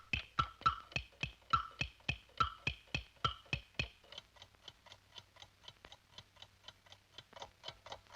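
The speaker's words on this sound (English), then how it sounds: "he can still hear the clock ticking" A loud alarm clock in a bedroom ticks steadily and quickly, close and crisp at first, then continuing more muffled and quieter, as if shut inside a drawer.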